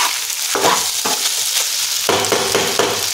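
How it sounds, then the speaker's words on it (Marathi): Loud, steady sizzling of rice frying on a high flame in a wide pan, with repeated scraping bursts as the rice is stirred and tossed, no voices. "मोठ्या गॅसवरच त्याने परतून घ्यायचा भात"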